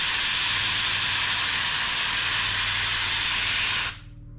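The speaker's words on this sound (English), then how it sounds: "we've got a bit of air pushing it out now" Air hisses steadily out of a tyre valve through a deflator, a loud continuous broadband rush that stops abruptly near the end and leaves a quiet background.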